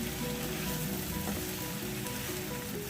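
Three medium onions, roughly chopped, fry in hot oil with a steady, dense sizzle and crackle that carries on without a break.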